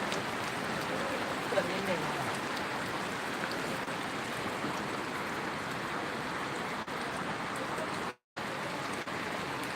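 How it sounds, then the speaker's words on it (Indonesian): River floodwater rushing past in a steady, dense roar that holds unbroken throughout, heavy and close with no letup. "Itu ketinggian airnya bisa di sana lihat dan derasnya air"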